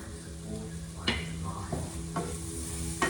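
Onions sizzle in a pan with a soft, steady crackle, broken by a few scraping stirs, quiet and close.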